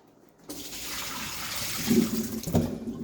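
Water runs and splashes steadily as peeled, washed potatoes are put into cold water in a home kitchen, with a couple of louder plops partway through and no talking.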